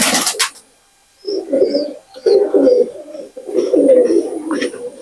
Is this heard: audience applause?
no